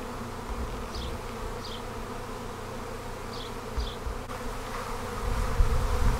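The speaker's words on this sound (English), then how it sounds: "What is going on with these bees?" A steady, dense buzzing of a honey bee swarm fills the air, close and continuous, with a few brief higher whirs passing by and low rumbling underneath.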